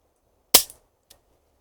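A single sharp shot from a Marksman Repeater air rifle, close and loud, followed by a faint click or impact a moment later.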